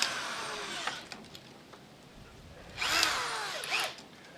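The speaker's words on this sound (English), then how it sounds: "Just a regular 3/8 electric drill." A 3/8-inch electric drill bores through a piece of scrap wood in two short whining bursts separated by a pause, close and moderately loud with no talking.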